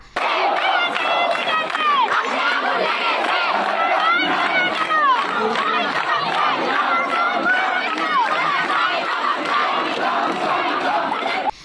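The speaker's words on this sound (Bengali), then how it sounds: "চারদিক থেকে শিক্ষার্থীরা আদালত ঘিরে রাখে এবং বিভিন্ন স্লোগান দিতে থাকেন তারা।" A large crowd of students chants and shouts protest slogans outside a court during a march for justice, a dense, continuous wall of raised voices at close range with overlapping calls and cries.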